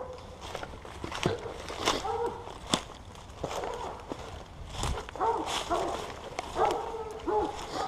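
Hunting dogs bark and yip in bursts during a wild boar pack trial at Auxonne, moderately distant, with footsteps and people talking nearby.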